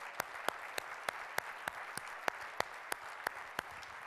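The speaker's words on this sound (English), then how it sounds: "I want to have one last round of applause for all the great speakers that you saw." A conference audience at the i4cp 2019 Future of Work event applauds its speakers, a soft, distant patter of many hands with one sharper, evenly spaced clap standing out on top in a steady rhythm.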